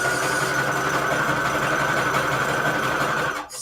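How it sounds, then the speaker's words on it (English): A sewing machine runs a steady zigzag stitch along the edge of scrap paper for a holiday envelope, a continuous close whir that cuts off abruptly near the end. "Oh, the zigzag stitch on the edge before I forget."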